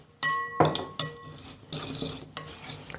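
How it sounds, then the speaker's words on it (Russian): Salad tossed in a bowl with a utensil, a series of clinking and scraping strokes in quick irregular bursts, close and fairly quiet, with no voices. "И все хорошо перемешиваем."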